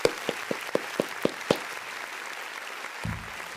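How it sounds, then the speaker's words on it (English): Webinar audience applause: a handful of sharp, evenly spaced claps in quick succession, then a pause and a faint low rumble at the end, no voices. "Let's get some applause, please."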